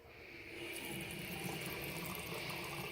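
Water running from a bathroom tap, starting softly then rising into a steady, close rushing splash that continues to the end, with no voices.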